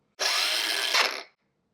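A Bosch GWX18V-15SC cordless angle grinder restarts and spins, a loud high whine about a second long that cuts off abruptly as its brake stops the disc.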